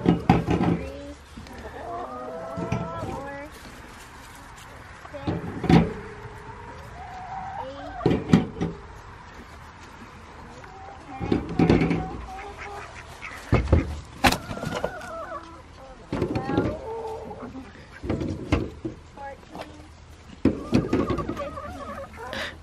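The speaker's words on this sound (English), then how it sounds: "Birds cooling off." Chickens cluck and call intermittently on a farm, loud bursts near and farther off, with other fowl noises between quieter stretches.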